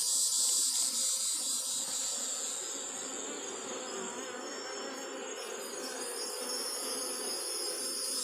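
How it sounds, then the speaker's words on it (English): A honeybee swarm gathered in a box outdoors at dusk gives off a dense, continuous buzzing hum, close and steady, with no voices over it. "Definitely hear a lot of bees in there."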